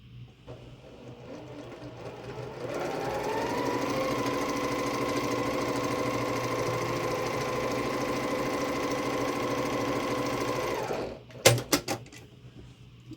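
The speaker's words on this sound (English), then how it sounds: "I'm going to take this over to my sewing machine and sew this together." A sewing machine stitches a quilt block for a 12-inch pattern, running in one steady, close, loud whir for about eight seconds after a quiet start, then stopping with a few sharp clicks.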